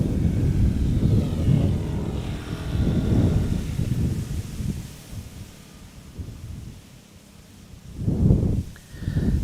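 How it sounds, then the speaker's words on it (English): A Qatar Airways Airbus A350-1000 flies near Amsterdam Schiphol, a loud rumbling jet roar that swells, fades to a quieter lull and then surges back near the end. "parallel to the 777, the A350-1000 from Qatar is flying"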